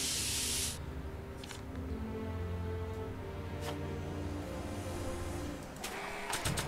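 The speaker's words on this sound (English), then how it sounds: "If I spray paint that plank," Spray paint hissing onto a plank in the Back to the Future video game, a short loud spray burst at the start over a steady background hum with a few faint clicks.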